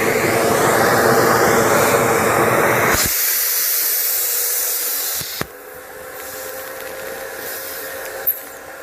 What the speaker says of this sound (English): Let me turn off the vacuum.